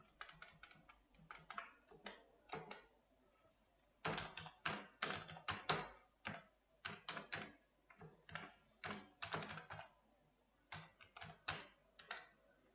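Rapid bursts of typing on a computer keyboard while filling in fields of a contact manager in Excel, clustered clicking keystrokes close and fairly quiet, with short pauses between runs.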